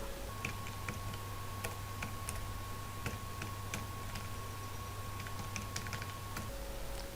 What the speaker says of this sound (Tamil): இப்போ நான் பேரை டைப் பண்ணிட்டேன்